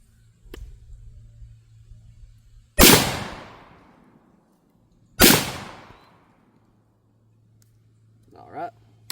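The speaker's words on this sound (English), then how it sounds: "I'm going to put 2 rounds on that squirrel down there." Coach gun fired twice outdoors at a squirrel: two sharp, loud blasts a few seconds apart, each trailing off in a long echo across quiet surroundings, with faint movement sounds between.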